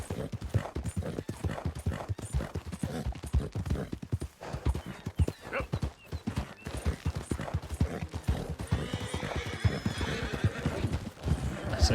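Horse hooves clip-clopping at a steady pace with a whinny in Red Dead Redemption 2 on PS4 Pro, moderately loud and continuous, with ambient game sounds around the hoofbeats.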